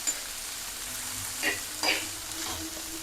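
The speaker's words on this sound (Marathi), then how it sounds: "तर हा कांदा आपल्याला गोल्डन होईपर्यंत फ्राय करून घ्यायचा आहे." Chopped onion frying in hot oil in a pan gives a steady soft sizzle throughout, with a couple of brief clinks from stirring.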